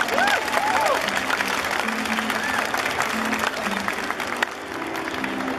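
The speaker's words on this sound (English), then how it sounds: "Can we have a clap for Heba, please?" An audience at a HyperJapan 2017 stage demonstration applauds steadily for several seconds, a broad wash of clapping with a few faint cheers and some background voices and tones.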